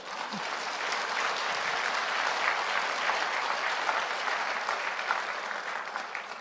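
Audience at a pastor's lecture breaks into sustained applause, a dense, steady patter of many hands clapping at moderate volume throughout, with no clear voices on top.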